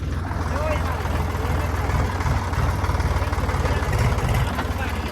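A tractor engine idles close by as a load of grass is unloaded at home, giving a loud, steady low chugging pulse that runs evenly throughout.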